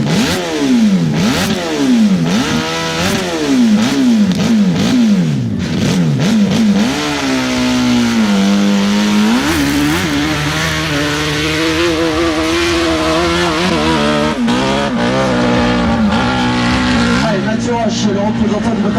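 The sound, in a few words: motorcycle engine revving on hill climb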